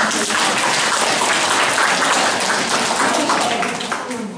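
Schoolchildren clapping together in a Hungarian primary school classroom, a dense, steady burst of applause lasting several seconds before gradually thinning out.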